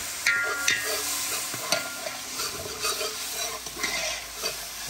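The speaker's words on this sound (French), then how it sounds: "Et là, un petit peu de l'eau dedans pour déglacer." Water poured into a hot pan to deglaze while making Réunion-style chicken with aubergines, a loud close sizzle broken by stirring and scraping knocks, with no one speaking.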